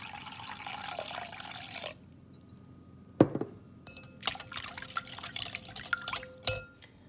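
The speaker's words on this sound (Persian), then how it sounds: "حالا نصف از لیوان آبی رو که داشتیم بهش اضافه میکنم" Water poured from a glass into a bowl of batter for an eggplant cake, a splashing trickle first, then pause, followed by clinks and drips of liquid in the bowl, close and without talking.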